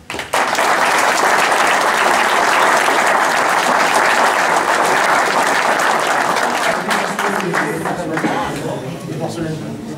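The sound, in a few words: audience applause at hunting dog pack contest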